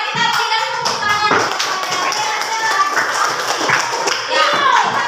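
A classroom of children claps hands in a dense, continuous round of applause that lasts throughout, close and loud, with young voices mixed in.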